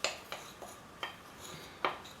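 A spoon mixes tapioca starch and cocoa powder in a bowl, producing a few light clinks and scrapes spaced apart, quiet and close with no voices.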